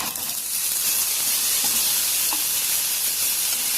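Turmeric and spices fry in hot oil with boiled chickpeas, a continuous bright sizzle and hiss, close and fairly loud, with no voices.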